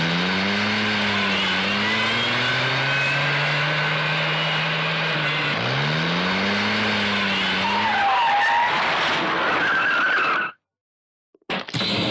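A car accelerates away with its tyres skidding and squealing loudly, a long continuous screech with engine roar that swells and then cuts off abruptly.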